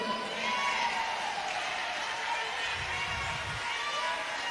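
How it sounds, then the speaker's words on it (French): Congregation at a church service applauding and cheering for the Lord, a steady wash of clapping and crowd noise that holds evenly throughout at moderate distance, with voices faintly under it. "levantan y aclamen al Señor."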